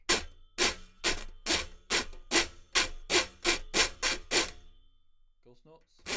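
A reco reco scraper played with accented strokes, about ten loud, punchy rasping scrapes in an even rhythm, close and alone, followed by a faint trailing sound.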